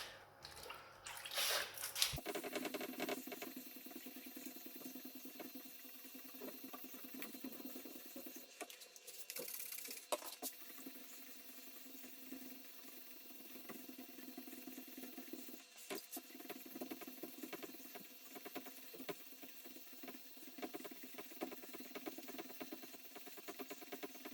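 Wet sanding car paint on a BMW E34 Touring with a 1000 grit sandpaper block to remove orange peel: a steady, close, wet scratchy rubbing that runs throughout with no talk.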